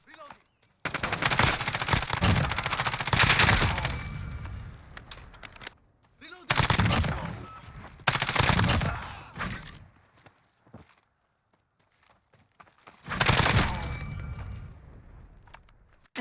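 RAM assault rifle firing in a first-person shooter, several long sustained bursts of loud automatic fire separated by short pauses, each burst dense and continuous with mechanical clatter between volleys.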